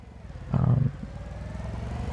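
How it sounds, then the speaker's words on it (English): Small UTV engine in Farming Simulator 25, a low steady idle hum with one brief louder rev swell, fairly faint. "I did go ahead and purchase us a little UTV"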